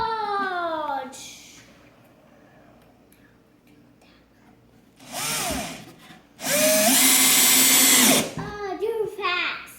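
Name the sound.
power drill driving screws into slant board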